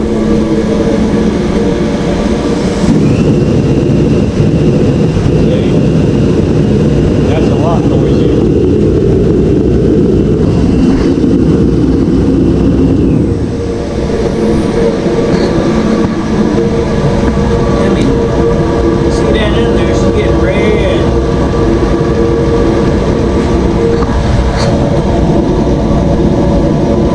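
A military tent heater runs with a loud, steady roaring rumble that fills the space, while someone talks over it at times.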